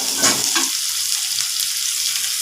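Spices sizzle and fry in a pan for a dry matki dish, with a brief scrape of stirring at the start followed by a steady, bright crackling hiss.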